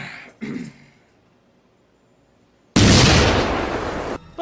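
Explosion in a toy store set off by a lightning strike in a film: a short thump, then a near silence, then a loud, sudden blast that roars for over a second before cutting off.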